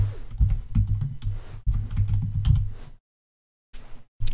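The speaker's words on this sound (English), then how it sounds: "we're gonna type in clean, C-L-E-A-N. Press enter." Close computer keyboard typing in bursts of quick keystrokes, with a short pause and then a few more taps, while a command is entered during a MacBook disk repair.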